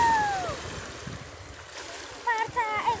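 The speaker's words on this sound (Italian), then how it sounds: "Altre onde." Cold sea waves breaking and splashing at a beach, a continuous rushing wash with louder surges near the end, overlaid by squealing, whistle-like voices.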